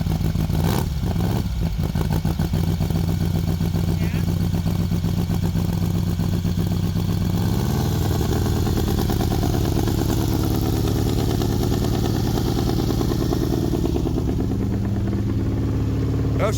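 A 1970s VW Baja Bug hot rod's four-cylinder engine idles loudly and steadily up close, with a brief rev partway through and a slight drop in pitch afterward.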